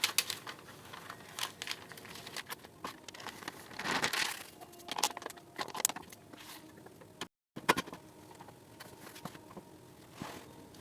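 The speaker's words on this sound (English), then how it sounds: "All of this powder can go right back into the bag." DTF transfer powder gets poured and shaken back into a plastic bag, making close, faint crinkling and soft rustling with scattered pattering bits throughout, briefly cut by a short silence.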